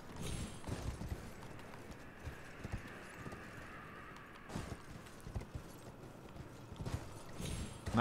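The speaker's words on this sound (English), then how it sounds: "There is something wrong with this horse." Rhythmic hoofbeats of a galloping horse in the video game Elden Ring, a steady clip-clop pattern at moderate level over a soft ambient bed.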